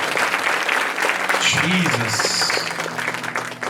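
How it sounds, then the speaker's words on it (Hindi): A congregation claps loudly at a Christmas church service, the applause steady and close as a voice calls out briefly over it. "तो एक जोरदार तालियां इस सेलिब्रेशन के लिए परमेश्वर के लिए बजा सकते हैं"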